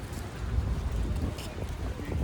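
Wind buffets a microphone outdoors on a cloudy day in Southampton, a steady low rumble with gusty swells across the whole stretch, loud and close without any break.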